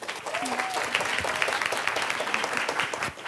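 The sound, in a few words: audience applause for speaker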